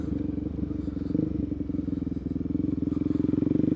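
A motorcycle engine revs up close during a power-wheelie attempt, its throbbing tone held steady and loud with slight rises in pitch, with no voices over it.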